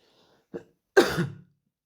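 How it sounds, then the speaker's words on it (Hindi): A short throat sound followed by a single harsh cough, close and clear, then silence. "ज़्यादा बोलता हूँ तो खांसी होती है।"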